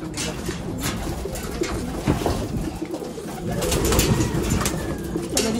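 Pigeons in a loft coo steadily and close by, several birds overlapping in soft rolling calls, with faint rustling underneath.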